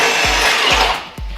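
A power drill bores holes into the steel bed of an FJ45 rock crawler, with a steady high whine and three short, deep thumps as the bit catches and pushes through.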